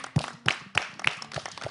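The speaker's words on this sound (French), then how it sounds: "On applaudit pour ça." Scattered hand claps from a small group on a French-language show, a few sharp distinct claps spaced out over under two seconds, sparse and fairly close rather than a full ovation.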